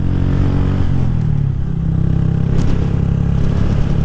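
A small Honda Grom motorcycle engine runs steadily and loud throughout, with a droning, slightly clattery revving note close by.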